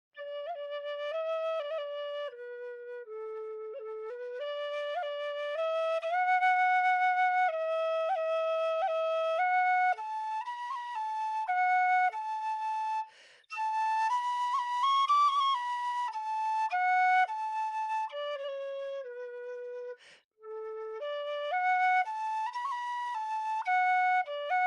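A Kerry Thunderbird tin whistle plays a slow tune alone, clear, close and steady, with sustained notes that step between pitches and two brief pauses for breath.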